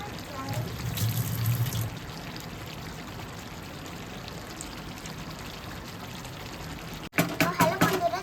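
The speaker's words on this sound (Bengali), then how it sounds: "এটা কাজু আর চাল মগজ পেস্টটা ঢেলে দিচ্ছি আমি এখন" Cashew and melon seed paste poured into a pan while making butter chicken: a soft, steady pouring trickle over low background hiss, then a brief louder burst of sloshing near the end.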